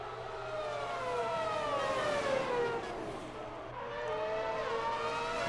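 Race car engines scream along the track in an AFR 2010 series round at Abu Dhabi. Several high, whining notes rise and fall as the cars pass, sustained and fairly close, with no talk.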